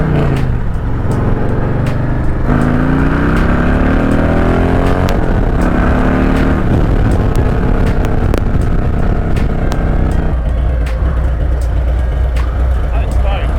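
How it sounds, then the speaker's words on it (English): Loud car engine rev bombs echoing inside a tunnel, deep roaring swells with rising pitch and pops, heard alongside talking voices throughout the drive. "You gotta rev bomb in a tunnel or a bridge."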